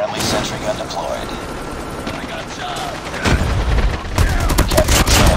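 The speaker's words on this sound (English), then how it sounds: "Friendly sentry gun deployed." Rapid automatic fire from a sentry gun in the Call of Duty Mobile video game, loud and close, with dense crackling bursts growing heavier toward the end amid game effects.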